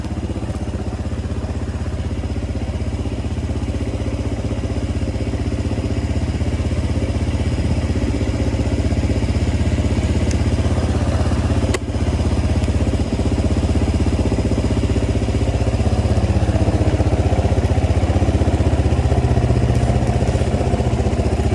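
A 1986 Yamaha XT350 dual-sport motorcycle, freshly rebuilt carbs and top end, idles slightly high with a loud, steady, close mechanical drone and light clatter that holds unbroken throughout.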